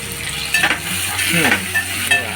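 Chopped tomatoes and green chillies sizzle loudly in a hot pan while being stirred, with steady frying hiss broken by scraping strokes of the spoon, and no talking.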